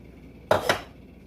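Hot aluminum foil pans are handled and squished down into place, giving a brief crinkly double rattle of thin foil, two close crisp bursts about a fifth of a second apart, then quiet.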